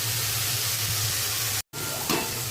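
Oil sizzles steadily in a pan while egg bhujia is cooked, a close, continuous hiss that cuts out briefly near the end and then resumes.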